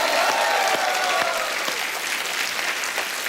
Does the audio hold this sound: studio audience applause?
yes